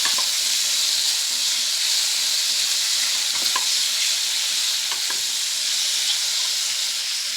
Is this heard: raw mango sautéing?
yes